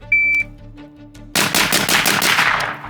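Rapid burst of MK18 Mod 0 rifle gunshots in a timed shooting drill, a sharp loud string of close shots following a brief electronic start beep.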